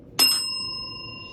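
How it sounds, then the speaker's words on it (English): A single bright bell strike rings out up close, its sharp metallic ding decaying into a long, clean sustained tone. "Bell."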